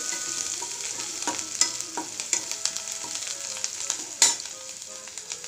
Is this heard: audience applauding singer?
no